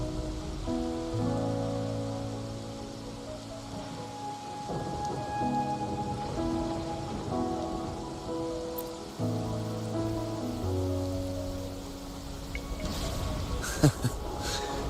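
Steady rain falls in Wuthering Waves, a soft constant patter under sustained, layered musical tones, with a brief rumble and crackle building toward the end.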